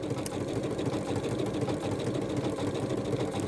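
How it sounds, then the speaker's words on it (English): A sewing machine runs steadily on its default settings while stitching a blanket stitch, giving a continuous, even mechanical whir with a fast repetitive patter that holds at a constant level, close up and without talk. "So I'm stitching it on the default settings first."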